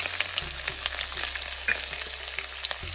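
Finely chopped green chillies and ginger fry in a pan for a tomato rice mix, giving off a loud, steady sizzle with a low hum beneath and scattered crackles. No one speaks.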